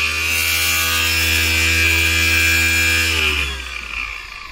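A homemade angle grinder cutting machine built around a DC motor runs loud and steady at close range, its whine holding high and constant before easing slightly near the end.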